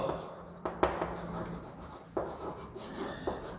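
Chalk or marker scratching across a classroom board in short, faint strokes with brief taps, under a teacher's voice.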